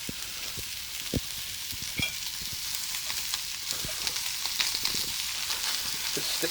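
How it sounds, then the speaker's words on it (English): A steak sizzles steadily in a hot frying pan, with a constant hiss and scattered sharp pops and crackles, close up and uninterrupted by talk. "Steak's stewing lovely there"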